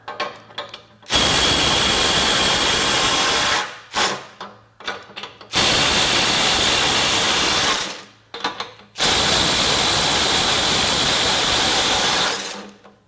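A Ryobi HP brushless impact driver from the PBLCK01K kit strains at 250 foot-pounds, hammering in three long, loud bursts separated by brief stuttering pulses and pauses.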